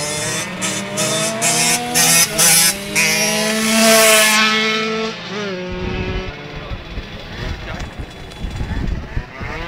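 Car at an amateur race in Saint-Brice, Marne, with engine roar and revving plus screeching tires in the first half, then fading, while people talk and shout nearby.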